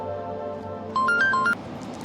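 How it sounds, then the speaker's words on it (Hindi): A short electronic ringtone melody of a few stepped pitches announces an incoming call from the in-law, sounding for about half a second over a steady low background hum. "अरे समधन जी का फोन।"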